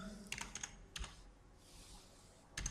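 Keystrokes on a computer keyboard typing a short phrase into a Microsoft Word document, heard as quick clusters of clicks in three short bursts with pauses between, fairly faint and with no talking.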